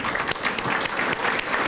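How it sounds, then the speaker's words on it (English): A room full of guests claps for honorees at the New Lenox Chamber of Commerce annual awards dinner, a loud, close burst of sustained applause with a faint murmur of voices underneath. "I want to just give one more big round of applause to our honorees this evening"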